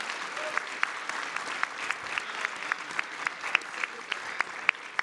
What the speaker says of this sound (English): can we get a round of applause for this amazing panel?